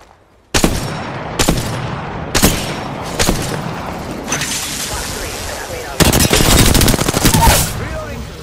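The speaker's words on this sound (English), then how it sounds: "They're shooting at me?" Gunfire in the battle royale game Apex Legends, loud and close, with several sharp single shots and then a sustained rapid burst of automatic fire, and a voice briefly over it.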